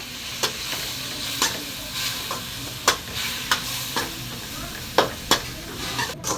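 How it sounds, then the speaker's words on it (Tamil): Chopped tomatoes frying in a pan for homemade chicken gravy: a steady close sizzle broken by repeated sharp clinks and scrapes of a spoon stirring against the pan. "தக்காளி வணங்குற வரைக்கும் நம்ம நல்லா வணக்கிக்கலாம்"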